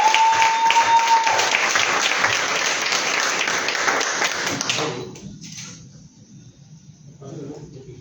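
An audience at a press conference applauds in a sustained burst of close, dense clapping that cuts off after about five seconds, leaving quiet room tone with faint voices.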